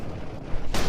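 A tank cannon fires in the game World of Tanks, one sharp blast near the end of a short stretch of low engine rumble.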